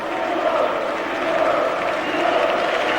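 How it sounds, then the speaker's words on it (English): A large crowd at an Ashes Test cricket match between Australia and England roars in a steady, dense wash of noise, loud and continuous throughout with no distinct voices rising above it. "the crowd are behind him. A lot of noise, a lot of atmosphere."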